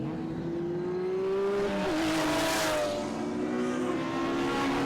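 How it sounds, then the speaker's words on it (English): Heritage Touring Cars, including Group A and C machines such as BMWs, roar away from a rolling start at Winton, several engines revving loudly together with rising and shifting pitch as the pack accelerates close by. "And they're away, a rolling start for the Heritage Touring Cars."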